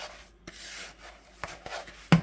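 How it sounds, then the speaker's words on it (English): A butter and graham cracker crumb mixture being stirred in a 9x13 pan, faint gritty scraping strokes come in irregular bursts, with one sharper scrape near the end. "I'm stirring up the mixture of the butter and the graham crackers"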